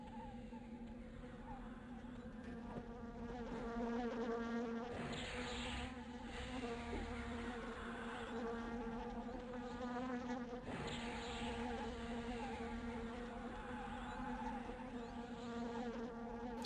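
A bee monster in the EverQuest video game buzzing continuously, a steady droning hum with game effects layered over it, no talk.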